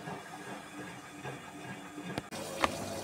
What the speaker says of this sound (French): Donc la machine elle rince. Donc voilà, elle est en phase de rinçage.